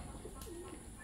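A rare off-color flying pigeon gives a single soft, low coo over quiet background hiss.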